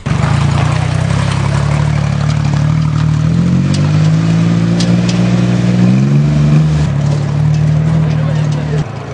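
A low-cost car built by students is driven with a loud, close engine drone throughout, its pitch rising and falling as the engine revs.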